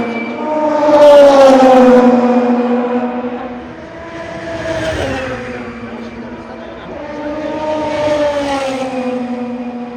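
GT500 race cars at Okayama circuit pass in three separate waves, each a loud, droning whine that rises and falls in pitch, heard from trackside.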